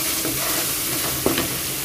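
Ginger-garlic paste and ground spices hit hot oil for a prawn curry with pumpkin and mustard paste, giving a brief, steady sizzle with a sharp stirring scrape near the end.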